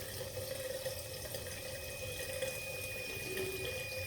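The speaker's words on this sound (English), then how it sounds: "You're just rinsing that dye off." Water runs steadily from a tap over hair as dye is rinsed out, a continuous close splashing wash with no voices.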